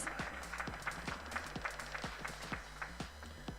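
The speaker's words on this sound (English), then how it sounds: "Please deliver a round of applause." An audience at a corporate felicitation ceremony for ZF Rane in Trichy applauds, with sharp individual claps standing out rhythmically over a quiet, distant background hum.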